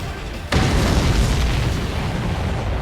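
Combat explosion in the jet-fighter game Ace Combat 7: Skies Unknown, a sudden heavy boom that hits after a half-second and rolls on as a dense, sustained rumble.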